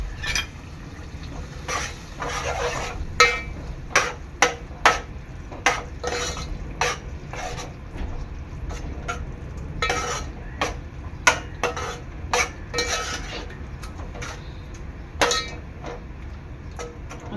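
Peas and taro leaves being stirred into a masala in a pan: a spoon scrapes and clinks against the metal again and again in an uneven rhythm over a low steady background, with no talking.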